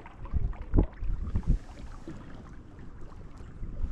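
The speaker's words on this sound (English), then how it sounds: "It's a little windy." Wind rumbles against the microphone in low, uneven gusts while out bass fishing, strongest at the start, then settling into a softer steady buffeting.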